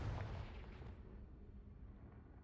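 A Confringo fire spell explodes in the Hogwarts Legacy video game, a deep booming burst that rumbles briefly and then fades quietly into a low decaying tail.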